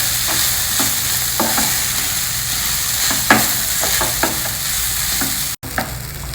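Washed poha is stirred in a hot pan over reduced flame, with a soft steady sizzle and repeated scraping strokes of the spoon close by.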